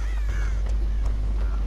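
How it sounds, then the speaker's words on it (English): Crows caw in the Dead by Daylight video game, a few harsh calls scattered against a constant low droning hum, fairly close and clear. "I'm trying to run the crows off of me"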